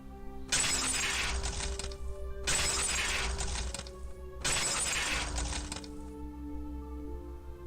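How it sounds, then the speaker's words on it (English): Glass windows shatter three times in a row in the game Higurashi When They Cry, each crash loud and bright with a brief gap before the next, over a low steady hum. "Then she broke the glass windows, one after the other."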